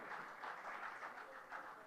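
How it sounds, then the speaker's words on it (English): Audience applause for the KPN (Kovai Pazhamudir Nilayam) family at a special address event, a steady, fairly faint wash of many hands clapping together from a distance. "huge round of applause for the entire KPN family that's here"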